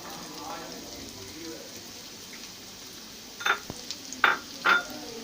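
Finely chopped carrots hit hot oil in a pan, giving a soft sizzle with a few brief clinks of a wooden spoon near the end, with a voice faintly present.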